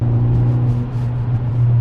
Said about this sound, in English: this has got a PowerFlow custom exhaust system at the back, and the noise is just amazing